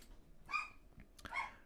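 A dog indoors barks twice, about a second apart, each bark short and sharp and heard from a moderate distance over a quiet room.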